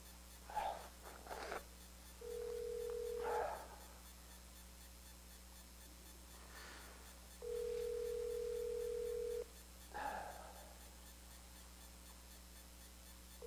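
An incoming call rings on a phone at a funeral service, with two sustained tones about two seconds each separated by a gap, fairly quiet against a room hum and faint background noises.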